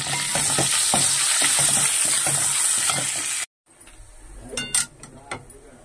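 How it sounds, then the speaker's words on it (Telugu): Mustard seeds, chana dal, dried red chillies and curry leaves sizzle loudly in hot oil for a tempering, a dense continuous frying hiss that cuts off abruptly, followed by a few quieter clinks and stirring sounds. "కొంచెం కరివేపాకు వేసుకుని తాలింపు వేసేసుకోవాలి."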